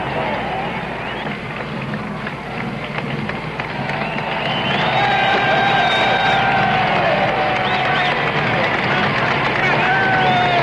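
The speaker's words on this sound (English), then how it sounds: "The crowd deepened on both sides of the route until the sidewalks were jammed." A dense street crowd along Richard Nixon's motorcade route, with sidewalks jammed on both sides, keeps up a continuous roar of cheering and babble that swells louder midway, heard from within the throng with whistles rising above it.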